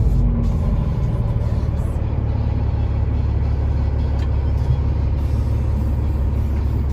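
A 2016 Peterbilt 389 glider truck with a Cat engine, heard from inside the cab as a loud steady diesel rumble, with a deep drone held evenly throughout.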